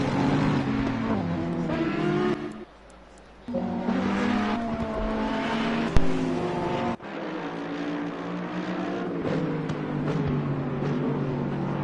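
Race cars lapping the Oulton Park circuit during an NXTGEN championship race, with loud, continuous engine roar that dips briefly and then swells again as cars pass close by.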